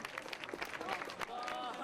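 Students cheer and clap for seniors departing for their college entrance exam, a dense burst of crowd applause with shouts mixed in and voices throughout.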